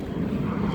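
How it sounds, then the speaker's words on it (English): Airplane passing overhead outdoors during a car repair: a low, steady rumbling drone, fairly quiet and heard alone for under a second. "an airplane went by"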